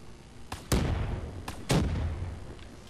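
Death and Taxes grenade pistols in Call of Duty: Black Ops 3 firing explosive rounds: two pairs of sharp blasts, each a quick pop followed by a heavy booming explosion that rumbles and decays, loud and close.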